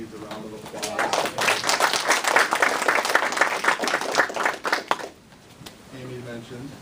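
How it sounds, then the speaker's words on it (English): A meeting audience at a Toastmasters-style club open house breaks into a round of applause, dense clapping sustained for about five seconds before stopping abruptly, with faint voices and chatter around it. "I want to start off by saying Stacy needs a round of applause"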